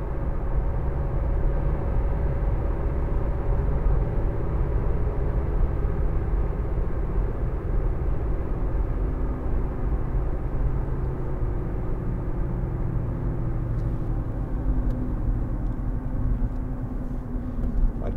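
Steady, loud low rumble of road and tyre noise inside a moving 2014 Audi A1 1.6 TDI Sport, continuous throughout with a slightly louder roar from the rear tyres and no speech.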